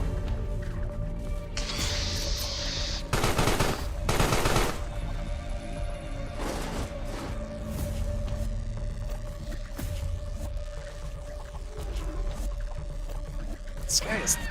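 Machine gun fire in a video game, rapid bursts of automatic gunfire in short clusters against battle noise and a low droning tone, mixed with other game sounds.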